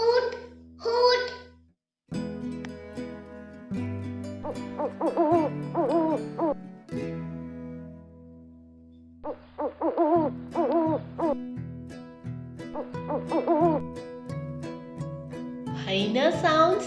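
Owl hoots come as a short series of spaced calls, close and clear, mixed with a voice imitating the hooting and plain talk.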